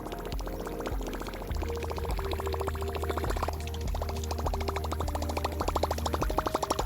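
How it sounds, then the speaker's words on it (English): A Whopper Plopper topwater fishing lure's propeller tail churns and splashes steadily across the water, a fast rhythmic gurgling plop that keeps going and grows slightly louder toward the end. "we're going to compare the noise and water disturbance created from each size of the Whopper Plopper and Choppo"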